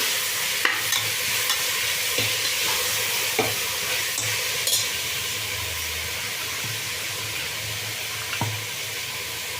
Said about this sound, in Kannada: ಮೆಂತ್ಯ ಸೊಪ್ಪು ಕಹಿ ಬರಲ್ಲ ಅದಕ್ಕೋಸ್ಕರ ಸ್ವಲ್ಪ ಫ್ರೈ ಮಾಡ್ಕೊಳ್ತಾ ಇದ್ದೀನಿ